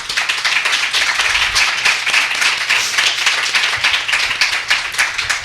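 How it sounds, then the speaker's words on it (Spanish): An audience greets Bruno Orozco with loud, steady applause, the claps close and fast and rolling continuously without a break. "damos un fuerte aplauso a Bruno."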